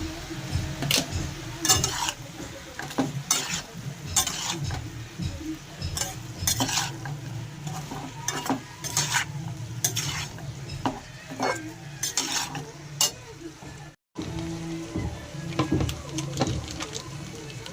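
A spoon stirs shukto, a Bengali mixed-vegetable dish, in a pan. The scraping and clinking come in steady irregular strokes over a low simmer, with a brief pause near the end.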